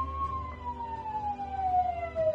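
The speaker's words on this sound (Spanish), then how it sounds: "Es la ambulancia que hemos llamado para la señora que se ha puesto enferma en el piso de abajo." Ambulance siren called for a woman taken ill downstairs, one long wailing tone that slides steadily lower as it passes, moderately loud over low rumbling street background.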